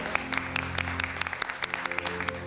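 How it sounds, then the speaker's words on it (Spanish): An audience applauding at the speaker's request, a moderately quiet, steady patter of many hands with a few sharper close claps standing out, heard alone without voices. "Un aplauso, por favor."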